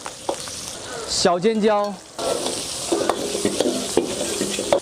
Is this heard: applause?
no